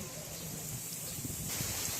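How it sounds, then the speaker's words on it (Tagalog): Steady broadband wind roaring against the microphone throughout at a farm, gusting a bit louder toward the end, with faint background rustle. "yung lakas ng hangin"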